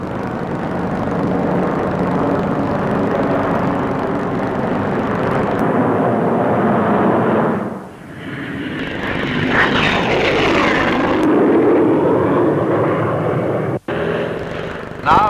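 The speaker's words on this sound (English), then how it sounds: "The short Sherpa, an experimental plane, will help the development of future operational aircraft." The Short Sherpa experimental propeller plane flies past at a 1950s Farnborough air show, a loud steady engine drone with a dip and swell as it passes, and a voice narrating over it.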